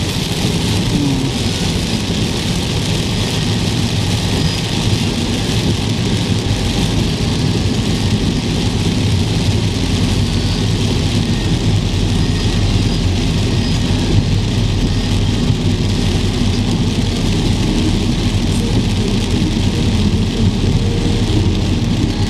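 Steady rain pours on a street in Da Nang, a dense continuous hiss with the low rumble of passing cars and engines underneath, loud and unbroken throughout.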